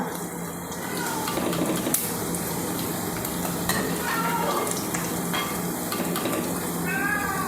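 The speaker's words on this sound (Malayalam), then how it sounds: "ചെമ്മീൻ മുരിഞ്ഞിട്ടുണ്ട് നമുക്കത് കോരി മാറ്റാം" Peeled prawns frying in sesame oil in a pan for pickle give a continuous, close sizzle with scraping stirs and small pops, with no talk over it.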